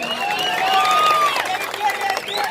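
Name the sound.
audience applause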